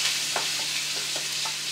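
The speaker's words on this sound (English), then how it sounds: "I'm gonna add it to the wok." Thin-sliced Korean barbecue meat sizzles in a wok as a steady, close frying hiss, with a few soft stirring scrapes standing out above it.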